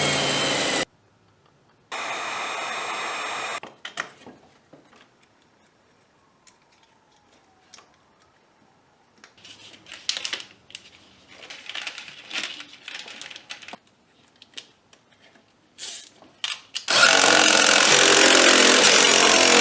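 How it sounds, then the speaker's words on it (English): Bursts of a power drill whirring loudly while drilling a switch hole during a Scag mower repair, separated by quiet stretches of scattered clicks and handling noises, ending with a sustained run of the motor. "And I'm going to drill a hole right here for the switch."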